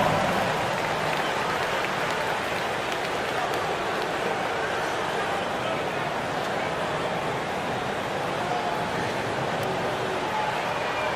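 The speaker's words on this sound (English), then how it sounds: "Give yourself a round of applause." Steady, dense crowd applause and cheering fills an NBA 2K25 basketball video game arena during a Knicks versus Timberwolves game, holding at an even level throughout with no break.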